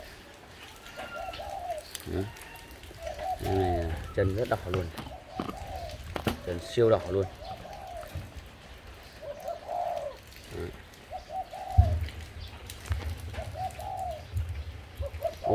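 A captive turtle dove coos over and over in short, throaty phrases with a rolling, vibrating quality, heard close by, while someone speaks intermittently nearby.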